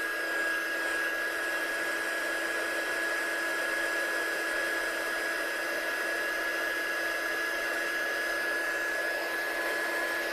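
A heat tool blows continuously to dry ink on a handmade watercolour-pen card, a loud, steady whirring hum with a thin high whine that holds unchanged from start to finish.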